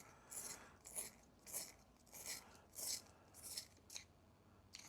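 A pencil turned in a sharpener struggling with soft lead, heard as a series of about nine short scraping grinding bursts in an uneven rhythm, close and quiet, with no talking.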